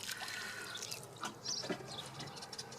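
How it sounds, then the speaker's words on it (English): Water poured around the base of young cucumber plants on a hot day, a soft, quiet trickle with faint drips and splashes, close by and with no talk over it. "I'm going to water these in because it's hot"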